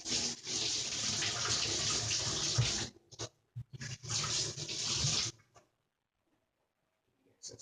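Kitchen tap water running into a sink while potatoes are rinsed, a loud steady splash that stops, restarts briefly, then shuts off into near silence.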